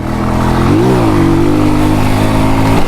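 A motorcycle accelerates hard during a mini wheelie in traffic, its loud, close engine note climbing sharply, dipping briefly, then holding a steady high drone before cutting off.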